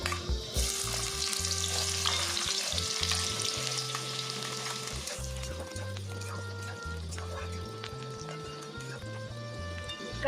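Onion frying in a mustard seed and cumin tempering for puffed-rice sushila, a steady loud sizzle with stirring scrapes, backed by continuous background music.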